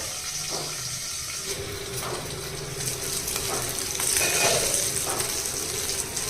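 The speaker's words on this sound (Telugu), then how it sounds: "ఇప్పుడు మళ్ళీ మూత పెట్టేసి మీడియం ఫ్లేమ్ మీద వేగించాలి" Black gandu fish fry in a covered pan over a medium flame, a steady broad sizzle with soft pops and faint lid and utensil clatter, building slightly louder toward the end.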